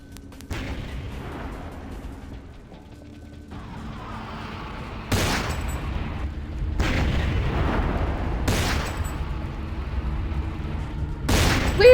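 Heavy gunfire from Vampire: The Masquerade – Bloodlines, loud booming shots arriving in several spaced bursts over a constant rumbling game soundscape.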